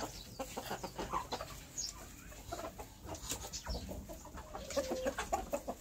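Chickens clucking close by while pecking at malunggay leaves, several birds giving soft irregular clucks and murmurs over faint background noise.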